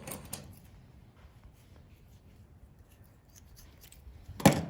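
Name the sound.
kitchen scissors cutting a squirrel's skin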